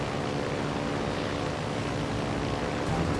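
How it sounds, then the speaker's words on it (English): Torpedo bomber squadron in the naval game World of Warships, a steady loud propeller-engine drone that holds without a break, no talk. "But I got a few torpedo bombers,"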